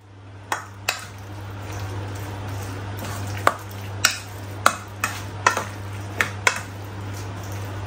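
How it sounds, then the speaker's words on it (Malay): Chicken being tossed with chili and salt before frying for a spicy chicken dish: a run of sharp clinks and scraping taps from utensils against cookware over a constant low electrical hum. "ini ingin saya gaul dengan sedikit cili dan garam untuk saya goreng dulu"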